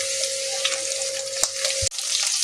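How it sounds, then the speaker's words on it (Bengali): Chicken pieces fry in a pan over high heat, giving a steady, close sizzle with a couple of brief clicks or knocks and no voices. "আঁচটাকে হাইতে দিয়ে আমি চিকেনগুলোকে ভালো মতো করে একটু ভাজা ভাজা করে নিয়েছি"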